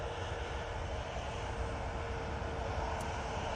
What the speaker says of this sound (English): Mighty Orange, A320 Neo going off to Malta now